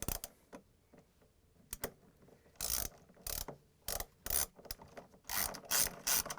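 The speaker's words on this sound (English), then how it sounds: "I'm going to use the same Torx 30 socket wrench, and I'm going to install that screw that's supplied with this new motor rotor." A Torx 30 socket wrench ratchets a screw into a new washer motor rotor on a Whirlpool/KitchenAid/Maytag washer. Close, quiet bursts of clicking come in uneven runs separated by short pauses.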